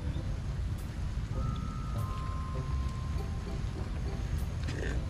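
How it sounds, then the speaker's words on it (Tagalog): Heavy rain pouring steadily outdoors around a house, a dense constant hiss with scattered sharper drops, loud and close with no talking. "Ayan grabe ang ulan."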